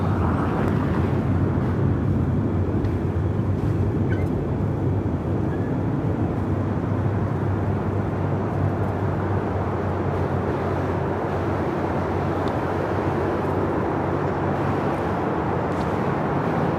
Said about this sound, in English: Next takeoff is Cookie, the Oreo livery, the Frontier, flight 1062 heading to Phoenix at A320 Neo